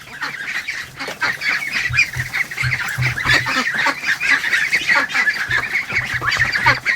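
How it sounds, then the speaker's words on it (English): Ducks inside a house give a steady run of loud, close honking quacks, overlapping calls through the whole stretch with no talk over them. "Oh, we got ducks inside. What are you guys doing inside?"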